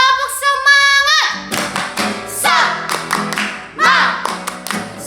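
Children at a Sunday school service give a spirit clap, a patterned burst of hand claps and taps in quick rhythmic groups, near and fairly loud, with some young voices and a sung or chanted tone mixed in.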